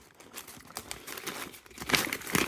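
Small plastic packets of fishing tackle, such as tri-swivels, are cut open with scissors, giving close, continuous crinkling and crackling plastic with brief snips, growing louder toward the end.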